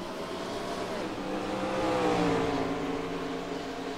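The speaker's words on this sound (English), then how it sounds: "Chris Sang in the 22 car looking for third" Race cars at a circuit race at Canadian Tire Motorsport Park, engines droning and rising in pitch as they swell to a peak and ease off, a continuous pass-by roar at moderate distance.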